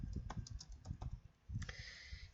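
A computer keyboard being typed on in quick, irregular keystrokes that pause briefly before resuming, close and fairly quiet with no talk.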